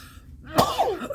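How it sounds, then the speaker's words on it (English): A single sharp sneeze bursts out close by, a brief explosive sound with a short voiced tail, surrounded by quiet room tone. "Sneezed."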